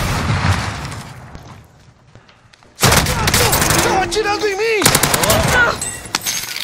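Rapid automatic gunfire in the Warzone video game breaks out after a quiet stretch, loud sustained bursts of shots with sharp cracks and whooshing effects continuing to the end.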